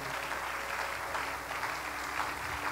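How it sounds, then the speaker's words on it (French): A church congregation applauds for the Lord during a French-language sermon, a steady, even wash of clapping at low volume with no pauses. "On peut acclamer pour le Seigneur."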